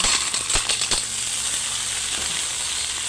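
Mussels dropped into a hot frying pan with onion, garlic, ginger and bay leaf, giving a bright loud sizzle with a few sharp clattering impacts at the start, then a steady crackling fry alone.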